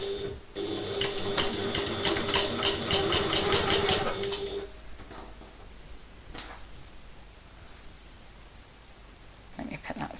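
A sewing machine top-stitches a backpack strap in a rapid, rattling burst of stitches for about four seconds, then stops, leaving quieter handling noises and a few faint clicks.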